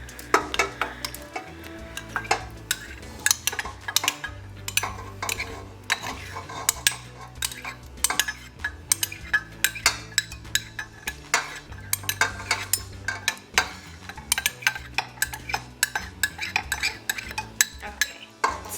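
A metal spoon scrapes and scoops canned pumpkin out of a small cup for mini pumpkin cream cheese swirl cakes, giving a steady run of close clinks and scrapes with no voices.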